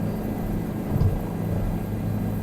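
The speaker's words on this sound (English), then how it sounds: "Let's start banking the helicopter around." A helicopter in Microsoft Flight Simulator 2020 drones steadily as it flies, a continuous low rotor and engine hum at moderate loudness with a slight swell midway, and no talking.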